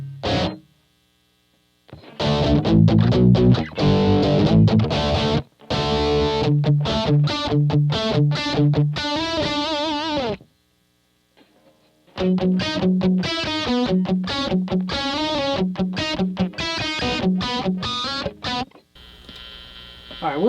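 Distorted electric guitar through a Rockman XPR plays chugging riffs and chords in bursts, with a few silent gaps between phrases, loud and saturated throughout.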